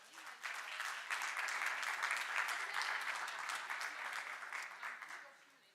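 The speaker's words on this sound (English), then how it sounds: "So please give a big round of applause." Audience at a marine knowledge event on the Ocean Pact applauding, a dense, even wash of clapping that swells quickly, holds for several seconds and fades at the end.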